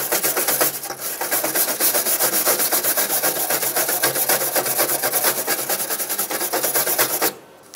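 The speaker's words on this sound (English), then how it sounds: "We're just gonna use a wire brush to clean up all this" A wire brush scrubs soot off fresh welds on a 2001-2006 Chevrolet Silverado 2500 cab corner, a loud continuous rapid scratching that runs for several seconds before cutting off abruptly near the end.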